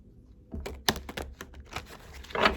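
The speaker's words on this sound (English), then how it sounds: "That was a bad shuffle. Let me do that again." Tarot cards are shuffled with quick irregular riffling and tapping clicks, ending in a short burst of flicking, close and fairly quiet.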